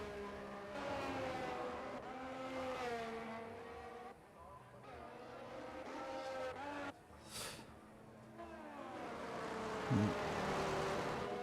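A race car from a racing video game drives out onto the track, its engine note rising and falling through gear changes at moderate distance, with a voice talking over it.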